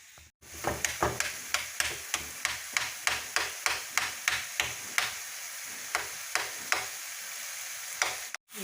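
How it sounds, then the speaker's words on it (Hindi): Small potato pieces cook in spices and tamarind in a pan, with rhythmic spoon strokes scraping and clacking about twice a second over a soft sizzle, close and clear with no talking. "इनको मसालों के अंदर, मैं इमली के अंदर अच्छी तरह पका लूँगी।"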